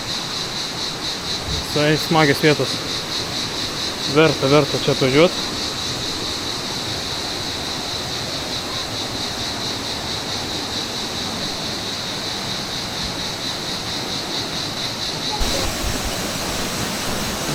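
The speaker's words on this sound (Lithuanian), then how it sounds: "Šniokščia upeliukas." A mountain stream rushes through the Sapadere canyon in Turkey, a constant close roar of water with brief talk from people nearby.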